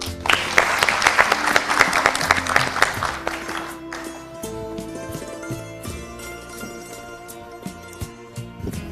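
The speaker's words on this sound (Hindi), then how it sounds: "जोरदार तालियों के साथ गजाला जी" Applause greets a guest arriving on an addiction-themed talk show, a burst of clapping over the first few seconds that gives way to music with sharp percussive hits and sustained tones.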